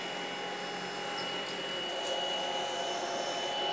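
A Tineco Pure ONE S11 cordless vacuum runs steadily on a hardwood floor, a constant near motor whine with airy suction that swells slightly as it picks up dust and dirt; no one speaks.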